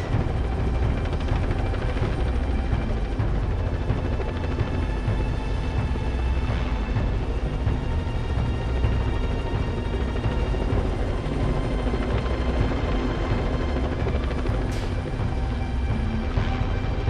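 An army helicopter flying in pieces of a giant tower crane near a village: a steady, loud, continuous rotor and engine drone with a rhythmic chop, unbroken throughout.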